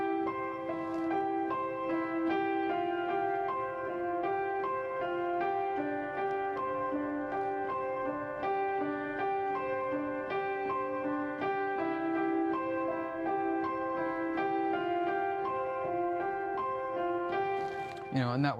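Keyboard playing a first-inversion chord pattern that walks from the 1 to the 4 to the 5 chord, a steady stream of clear notes moving in an even rhythm for nearly twenty seconds.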